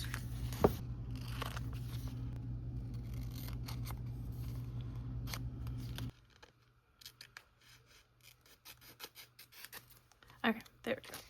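Scissors cutting pieces out of a sticker sheet that is not kiss-cut, close up: a steady run of crisp snips and paper scratches, then quieter scattered cuts after a background hum drops away.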